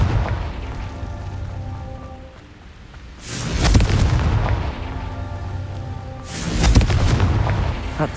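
Two deep, booming blasts from the Confringo fire spell in Hogwarts Legacy erupt about three seconds apart, each a loud burst with a rumbling tail over a steady game ambience.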